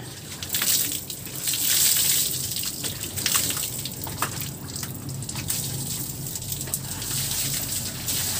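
Water is poured over a Honda Click 125 scooter during a wash, a steady splashing gush with dripping and trickling runoff, fairly close and continuous, with faint background voices.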